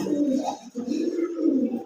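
A pigeon coos close by in two low, throaty, rolling phrases with a brief pause between them.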